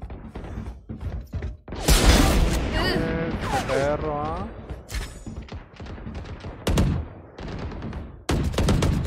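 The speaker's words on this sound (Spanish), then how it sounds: "tiros que salen a la loca." Rapid bursts of video game gunfire crackle in short volleys, loud and close, mixed with excited voices shouting and talking over the shots.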